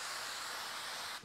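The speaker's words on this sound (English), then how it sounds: "I'm going to use my favorite cooking spray, this avocado spray, and just lightly spray each sheet pan." Avocado oil cooking spray hisses onto a sheet pan in one steady, close, fairly loud burst that cuts off abruptly at the end.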